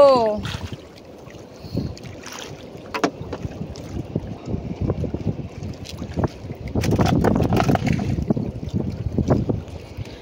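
Strong wind buffets the microphone in low, rumbling gusts that build louder toward the end, with water and boat noises underneath.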